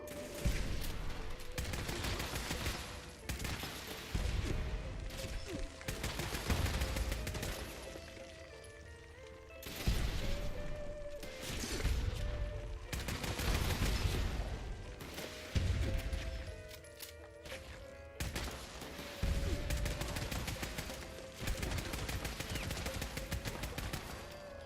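Video game gunfire crackles in repeated bursts of rapid shots with mechanical clicks between, moderately loud and fairly steady, with no speech over it.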